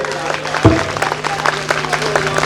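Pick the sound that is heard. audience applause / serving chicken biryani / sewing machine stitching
audience applause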